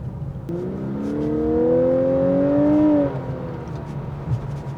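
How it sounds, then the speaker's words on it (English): Hybrid V6 engine of a Lexus LC500h revving under acceleration, its pitch climbing steadily for a couple of seconds then dropping off, heard from inside the car over steady road noise. "That's an addictive sound. It's revving there, trying to match the speed, and it's not quite catching up."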